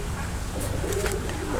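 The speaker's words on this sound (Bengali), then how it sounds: "তো আমি একটু জুম করে দেখাই, কবুতরটা দেখেন।" A pigeon coos softly and steadily nearby, low murmuring calls running through the whole moment with no one speaking.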